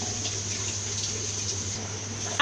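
Water runs steadily into a cooking pot for a mixed okra and egusi soup, a continuous close hiss with no speech, ending in a brief louder splash.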